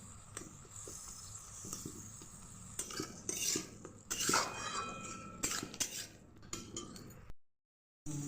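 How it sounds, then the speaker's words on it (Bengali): Spice paste with turmeric stir-fried in a pan, with a soft sizzle under bursts of metal spoon scraping and clinking, building in the middle before a brief silent gap near the end. "হলুদ, এভাবে ভালো করে মশলাটা কষে নেব।"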